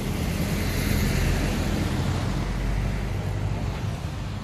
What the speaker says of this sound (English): Now the traffic is messing with us today, people.